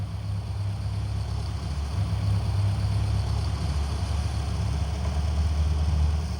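A small engine idling steadily and close by while its fuel mixture is adjusted, with a continuous low droning rumble whose speed lifts slightly and then sags back.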